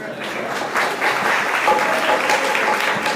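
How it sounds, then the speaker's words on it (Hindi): Audience clapping at a religious discourse on Mahavir, a steady dense patter of many hands continuing throughout with a slight swell midway. "कुछ लोग ताली बजाया करो, कुछ जय जयकार किया करो।"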